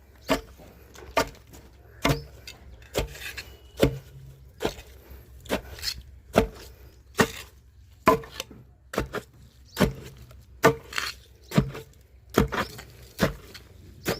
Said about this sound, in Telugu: పసుపు వేసుకొని ఇంకా నూరుకోవడమే